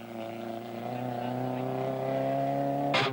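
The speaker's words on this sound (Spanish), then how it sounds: "vemos los autos partiendo rumbo a desvío General Díaz para hacer un tramo de clasificación" Rally cars setting off on a classification stage of the 1996 Trans Chaco Rally in Paraguay, a steady droning engine note building gradually in loudness, with a brief bright burst near the end.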